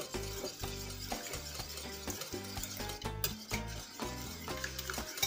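Six egg yolks are whisked for a custard cream, a quiet, rhythmic stirring and scraping that runs under background music.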